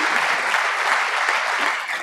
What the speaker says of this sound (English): A big round of applause to them, please